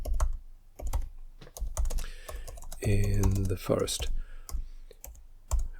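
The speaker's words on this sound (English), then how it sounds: "Apologies that my typing is a little bit on the slow side." Rapid clicking on a computer keyboard, close and crisp in uneven bursts, with a person speaking briefly over it.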